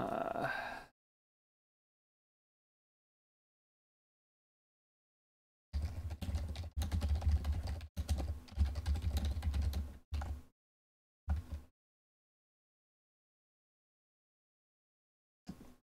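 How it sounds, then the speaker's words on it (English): Someone types a tweet on a computer keyboard, with a brief opening burst, then a long silence, followed by a dense run of clicking keystrokes and a few short, isolated taps near the end. "It's a good thing to start off with nothing but the sound of me typing a tweet"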